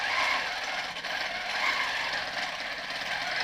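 A longarm quilting machine stitches a tight stipple with loops while refreshing an old quilt, giving a steady, close mechanical whir with a fine rapid ratcheting clatter that holds without pause.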